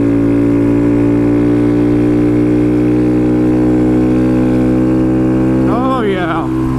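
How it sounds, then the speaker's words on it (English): Honda Grom motorcycle engine revving hard to redline in third gear, a loud steady drone that holds close and constant, with a brief rising voice-like sweep near the end. "Actually hit red line in freaking third gear."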